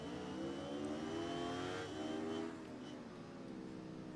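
Motorcycle engine in the racing video game Ride 3 revving hard and steadily, a loud, continuous rising whine that eases slightly toward the end, with no talk over it.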